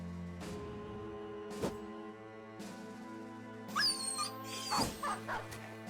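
A dog in Battle Brothers barks and yips in short, separate bursts over a low droning musical background, with a flurry of sharper, higher yelps near the end.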